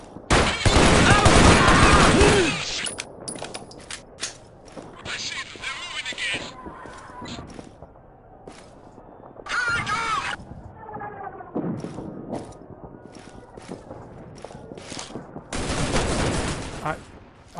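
Gunfire in the video game Shadow Ops: Red Mercury, bursts of rapid shots and sharp cracks scattered across the scene, loudest at the start and end, with a voice talking in between.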